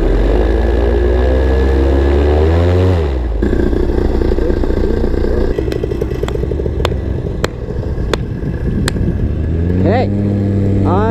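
A flat-top paramotor engine revs up to full throttle, a loud, near buzzing roar that climbs in pitch, drops back, then spins up again, with a few sharp clicks in the middle.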